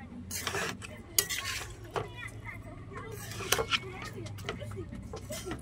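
Cabbage curry stirred in a pan with a metal spoon, giving a few scraping, clinking knocks against the pan and a sharp clatter as the lid goes on, over a faint low sizzle.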